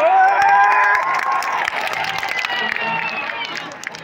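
Crowd at a Bhojpuri stage show in Kalyan, Mumbai claps and cheers loudly, the applause peaking at the start and then thinning into scattered claps and shouts.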